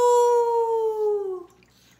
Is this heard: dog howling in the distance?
yes